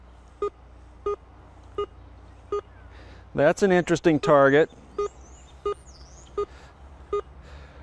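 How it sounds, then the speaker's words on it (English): Short electronic beeps from a Coinmaster metal detector repeat at a steady, even rhythm over a buried target, a quiet tone; someone speaks briefly over them partway through. "You want a solid repeatable beep over multiple passes"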